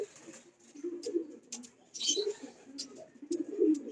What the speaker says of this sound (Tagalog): Ayan, kalapatids.